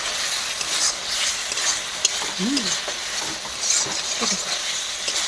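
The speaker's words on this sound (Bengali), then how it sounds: "এই যে সয়াবিনগুলোকে এর ভিতরে দিয়ে দিচ্ছি, দিয়ে ভালো করে আরও 10 মিনিট মতো কষিয়ে নেব" Soybean chunks frying in oil while being stirred for a Bengali-style soybean curry: a continuous close sizzle with scraping stir strokes and small pops throughout.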